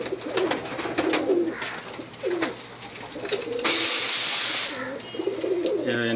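Pakistani pigeons, a Bankay male crossed with a Teddy-cross female, coo softly and repeatedly at close range, broken midway by a loud, steady hiss lasting about a second.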